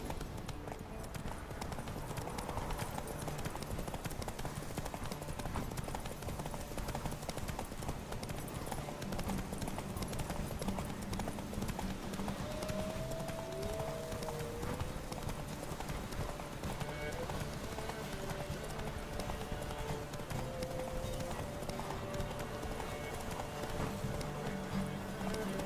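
Hooves of Roach, a horse in The Witcher 3 game, clip-clop in a fast steady galloping rhythm throughout, mixed with game music and ambient sound, while a voice speaks over it.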